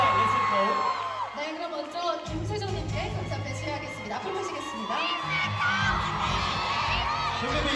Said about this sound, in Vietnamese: hãy dành một tràng pháo tay